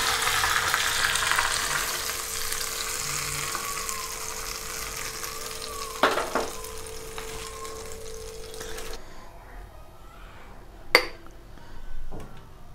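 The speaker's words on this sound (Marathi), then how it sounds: "आणि लगेच ॲड करूया कढीपत्ता" Curry leaves crackle and sizzle in hot oil for a coconut chutney tempering, a loud steady spitting hiss up close, with two sharp clinks of a pan or spoon and the frying fading toward the end.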